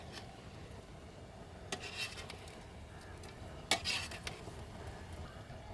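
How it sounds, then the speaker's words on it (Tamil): Avial vegetables stirred lightly in a covered pan after steaming, a faint soft scraping with two brief louder clinks of the spoon against the pan over a low steady background. "இப்போ லைட்டாக கிண்டி விடலாம்."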